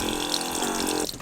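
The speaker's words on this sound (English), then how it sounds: "We got one of these little 12-volt pumps." A small 12-volt water pump runs inside a van, its steady whirring mixed with water pouring out, loud and close, then it cuts off abruptly near the end.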